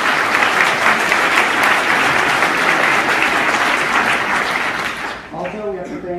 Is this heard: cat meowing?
no